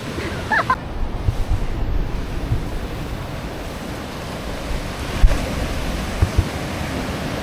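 Steady roar of small ocean surf washing in continuously at a surfing beach in northern Philippines, with gusts of wind buffeting the microphone and a few faint knocks.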